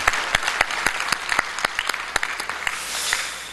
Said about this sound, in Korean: 우리 하나님께 우리 영광의 박수를 한번 올려드리겠습니다.